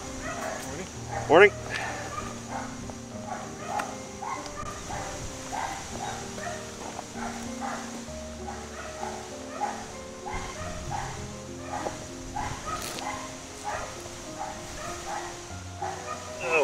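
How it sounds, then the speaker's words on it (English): A dog barks at a mailman during outdoor garden planting, giving a few short, fairly faint barks and yips spread through a long stretch of nearby talking. "Barking, oh, the mailman."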